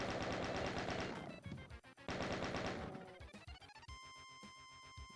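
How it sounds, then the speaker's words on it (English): Ultimate Doom gameplay gunfire: loud rapid bursts of repeated shots with a break in between, ending in a ringing game tone and no talk. "we are going through a lot of bullets here"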